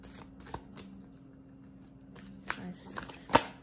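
Tarot cards being shuffled by hand, quick riffling bursts and soft slaps separated by brief pauses, close and fairly quiet.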